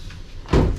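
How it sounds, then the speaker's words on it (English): A small glass sliding shower door in a cruise ship balcony stateroom bumps shut, a single close, sharp knock on its own. "sliding doors"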